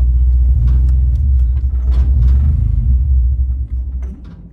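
A car engine with a faulty idle air control rumbles deep and loud right after restarting from a stall, with a few light clatters on top, then sags and fades near the end; no talking.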